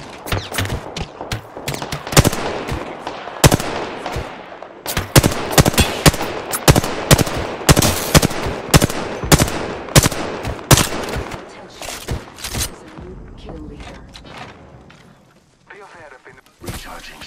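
Gunfire in Apex Legends: rapid bursts of sharp shots, some in quick automatic strings and some single cracks, loud and close, tapering off toward the end, with a voice talking at times.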